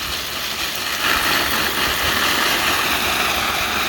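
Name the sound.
watering transplanted watermelon seedlings in a milk crate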